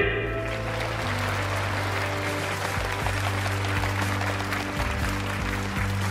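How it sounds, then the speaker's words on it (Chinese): An audience claps in sustained applause that fills the space evenly, with a low musical tone running steadily beneath it. "我可鼓过掌了"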